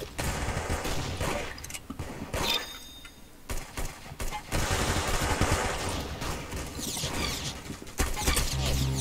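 Rapid gunfire in the Roblox shooter Arsenal, rattling automatic bursts and sharp single shots, loud and near, running almost nonstop with short gaps in a hectic firefight.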